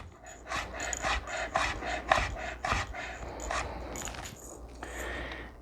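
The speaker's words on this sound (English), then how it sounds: "And then you can kind of line your garlic up again, and you're just going to slice across here." A knife slices through garlic cloves on a wooden cutting board in a steady series of crisp, rasping strokes close by, with no talking.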